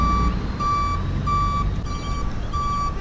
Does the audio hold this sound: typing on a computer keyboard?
no